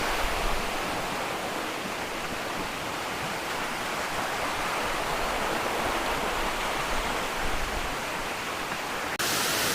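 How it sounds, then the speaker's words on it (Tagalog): The Matikdom Busay waterfall in Barangay Matikdom, Tandag City, Surigao del Sur, Philippines, roars as a loud, continuous broadband rush of falling water, close and unbroken, with no voices over it. "ito na yung Matikdom Busay Waterfalls dito sa Barangay Matikdom, Tandag City, Surigao del Sur, Philippines"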